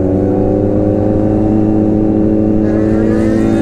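A superbike engine hums at a steady, loud pitch up close, then climbs in revs toward the end as the rider pulls up for a wheelie.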